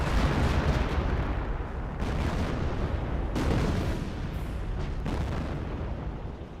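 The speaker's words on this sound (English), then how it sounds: "now I got the creeping barrage, in which that got all the Panzer Grenadiers" Artillery shells from a creeping barrage in the World War II strategy game Company of Heroes slam down in a loud, continuous run of booming explosions, several big blasts rising above a dense rumbling roar with no voices.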